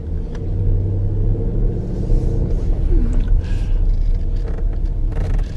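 A Dodge Durango RT with a 5.7 Hemi engine drives through a snowstorm, its low engine rumble steady and close inside the cabin, with faint scraping and rattles over the drone.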